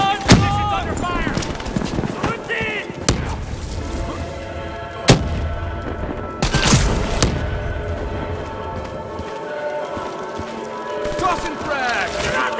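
Gunfire in Call of Duty Black Ops 3 during a campaign mission, with scattered loud shots and booming blasts mixed with battle noise and shouted voices.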